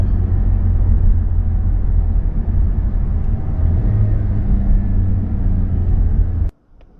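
A 2021 Mazda 3 Turbo hatchback drives along a road, its engine and tyres producing a steady, loud low rumble that holds for several seconds, then cuts off abruptly into near quiet.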